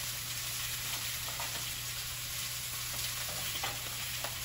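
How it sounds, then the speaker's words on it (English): Ground taco meat browns in a cast-iron skillet, giving a steady, fairly quiet sizzle with scattered small pops and crackles of spitting oil throughout, no voices. "That's the sound of the meat getting brown."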